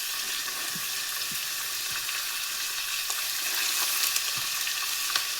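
Cluster beans and tomatoes fry in a hot pan with a steady, close sizzle, broken by a few soft scrapes and taps of a spoon stirring them; no voices.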